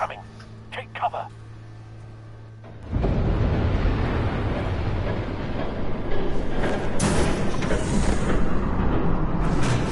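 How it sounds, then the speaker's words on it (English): A train rumbling past in a Batman game scene, a loud, sustained roar with rattling that swells in suddenly after a few seconds of quieter ambience and continues steadily to the end. "There's a train coming."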